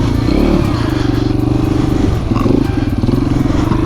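Motorcycle engine running steadily through a circle wheelie, a loud close rumble with a rough, pulsing drone and slight throttle swells, continuous across the whole stretch.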